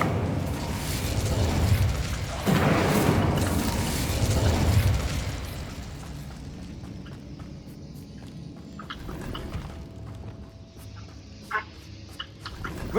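A fire spell cast in Hogwarts Legacy, loud and broadband: a roaring whoosh of flame surges over the first five seconds, then settles into quieter crackling with a few sharp pops near the end.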